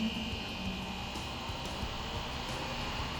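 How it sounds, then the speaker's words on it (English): An air conditioning unit running during a Fresno summer, giving a steady low mechanical hum and airy whoosh that holds at an even, moderate level throughout. "One of the most expensive sounds you can hear in Fresno during the summer is the air conditioning"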